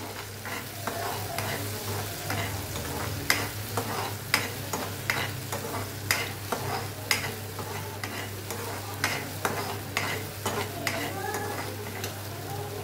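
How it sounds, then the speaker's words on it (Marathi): A spoon stirs tomato puree cooking in a pan for a matar paneer, scraping in repeated, fairly regular strokes over a continuous low sizzle, close and clear. "छान अशी कलसून घ्यायची आपल्याला प्युरी."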